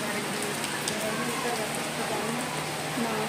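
Steady rain falling outdoors, a dense continuous hiss of drops hitting surfaces with scattered sharper drip taps, with faint voices underneath.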